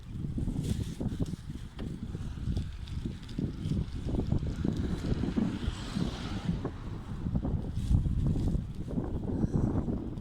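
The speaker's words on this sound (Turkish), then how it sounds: "Hava esiyor ya." Gusty wind at Kovalık near Şarköy in November buffets the microphone with a continuous low rumbling roar that surges and eases, loud and close, with no talking.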